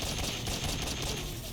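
Rapid automatic gunfire from the Metal Gear Solid 3 HD Edition video game, a dense, loud rattle of shots running continuously through the short burst.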